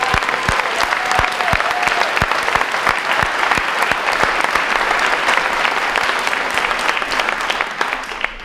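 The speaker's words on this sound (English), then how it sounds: "how about a huge round of applause?" A large room at a high school senior banquet fills with sustained, loud applause, many hands clapping densely for several seconds before it starts to taper off at the end.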